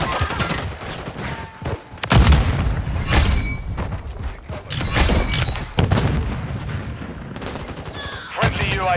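Call of Duty: Modern Warfare III combat with a thrown grenade going off amid heavy gunfire: loud bursts of shots and booms crowd together over about nine seconds.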